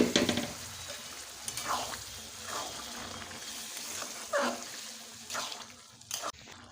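Cooked dal being stirred into spices already fried in oil for Bengali ghugni, giving a low sizzle with repeated scraping stirs and soft wet splatters, close and steady, with no voices.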